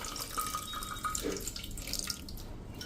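Water pours from a tap into a pot for plain khichdi, a faint, steady trickling stream lasting a few seconds in a quiet kitchen.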